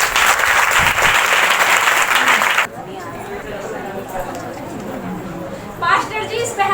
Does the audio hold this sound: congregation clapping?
yes